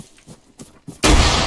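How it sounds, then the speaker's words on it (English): A grenade goes off in the combat game Arma 3, a sudden loud blast near the end that follows a few short gunshot-like pops and leaves a sustained roar. "Grenade!"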